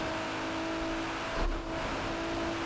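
A car engine holds a steady, loud drone while accelerating in a highway drag race in Forza Horizon 4, with a brief swell midway and the tone staying constant.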